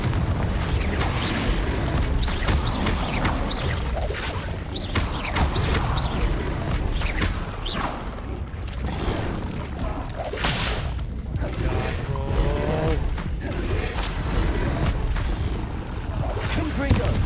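Confringo blasting spells go off in a Harry Potter game, heavy booming bursts and crashing impacts repeating through a busy, cluttered mix, with someone talking over the action.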